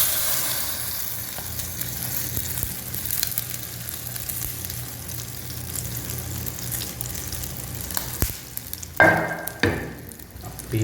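Onion omelette mixture of beaten egg hits hot oil with a steady, close frying hiss, and a louder burst of sizzling breaks out near the end, with no talking.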